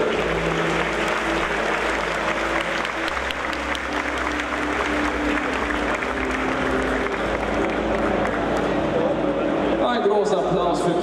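A crowd at the Gamescom 2014 Blizzard costume contest claps and cheers in a big hall, steady and dense throughout, with a voice over a loudspeaker starting near the end.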